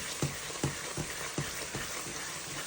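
Tomato sauce for jollof rice sizzles steadily in a non-stick pan, a constant frying hiss broken by soft, regular thumps of a stirring utensil about every half second, close up with no talking.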